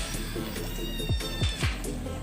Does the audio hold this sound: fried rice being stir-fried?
no